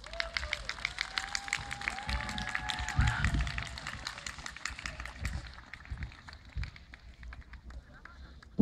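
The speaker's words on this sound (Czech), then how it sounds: "Prosím, tu přivítejte potleskem." An outdoor crowd at a summer open-air cinema event in Pardubice claps to welcome a guest on stage, a moderate patter of applause mixed with a whistle and voices, fading toward the end.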